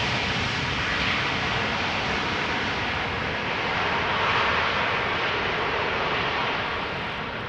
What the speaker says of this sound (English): 737 arriving from Faro in a short period of time.